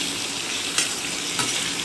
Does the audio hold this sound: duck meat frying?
yes